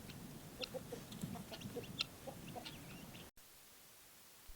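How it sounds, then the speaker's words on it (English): Several free-ranging homestead chickens cluck softly and intermittently at a moderate distance outdoors in wind, with low rustling underneath, then a sudden thump at the very end. "We are releasing our chickens."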